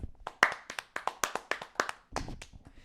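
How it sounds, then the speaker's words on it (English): Podcast hosts clap their hands in a quick run of about a dozen sharp, close claps at a steady rhythm, then a looser, softer patter at the end with no talk. "Let's all clap for Sosa real quick"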